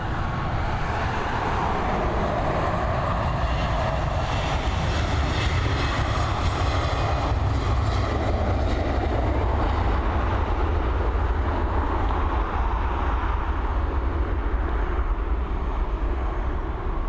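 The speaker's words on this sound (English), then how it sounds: "Another Airbus A320." Airbus A320 jet taking off for Munich from Dublin Airport, a loud, continuous low engine roar and rumble that stays steady and powerful throughout; no talk.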